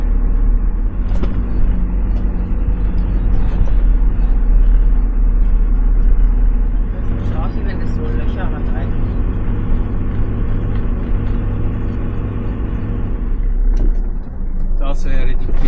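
A vehicle drives a rough unpaved track across the Mangghystau steppe toward the Ustyurt plateau in Kazakhstan, its engine rumble and road noise loud and steady throughout, with people talking inside.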